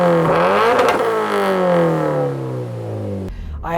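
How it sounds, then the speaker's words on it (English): A Toyota GR86 fitted with a GR Performance exhaust revs up and then holds a loud, steady, close droning tone from the exhaust before cutting off sharply near the end. "this exhaust drones so badly"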